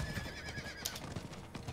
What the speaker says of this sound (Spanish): Ahora con el caballito llegamos súper rápido.